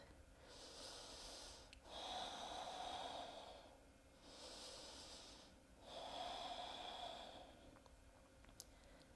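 Slow, deep breaths during a yoga pose, alternating inhales and exhales in an even rhythm, close and quiet, with no talking.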